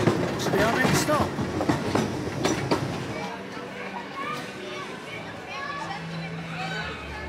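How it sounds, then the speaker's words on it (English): Park train ride at Efteling, with rolling wheels and clattering rail noise rumbling loudly at first, then fading into softer carriage sounds while people talk over it and children's voices drift in. "So a really pleasant train ride there."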